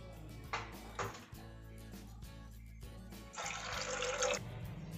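Water pours into a pressure cooker holding peas for a canteen-style ghugni, in two separate splashing bursts, the second longer and louder, over a low steady background hum.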